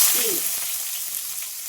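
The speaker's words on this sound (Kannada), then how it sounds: "ನಾನು ಯಾವತ್ತೂ ಅಷ್ಟೇ ಫಸ್ಟ್ ಎಣ್ಣೆ ಕಾಯಿಸ್ಕೊಂಡು ಸಾಸಿವೆ ಹಾಕ್ತೀನಿ" Mustard seeds hitting hot oil give a steady, close sizzling hiss with faint spluttering crackle, brief and even throughout with no talking.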